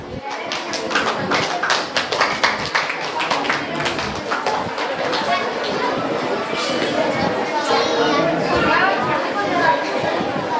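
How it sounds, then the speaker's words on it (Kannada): Loud applause at a school felicitation ceremony, dense clapping from a crowd that starts with sharp individual claps and swells into continuous rattling, with some chatter mixed in. "ಜೋರಾದ ಚಪ್ಪಾಳೆ"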